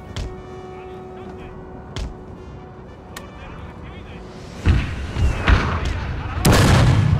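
Deep booming blasts of cannon fire in the video game Total War: Napoleon ring out at intervals, growing louder and more frequent later, with talking faintly mixed in.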